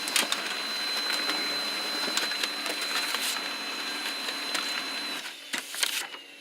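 A printer runs while feeding a page, giving a steady whirring hum with a high whine and bursts of clicking and scraping, moderately close, with no voices.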